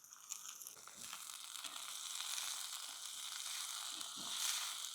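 Onion and capsicum sauté in hot oil with mustard seeds and cumin, a steady, close crackling sizzle with soft stirring scrapes and occasional spatter pops.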